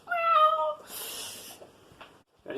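A pet cat gives a short, clear meow-like call with rising harmonics near the start, followed by a soft breathy rush and faint scuffs, heard up close in a quiet indoor room.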